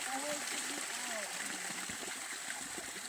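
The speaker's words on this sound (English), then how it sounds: "Natural spring water" Natural spring water trickling in a canyon along the Colorado River, a steady close splashing rush with faint voices talking underneath.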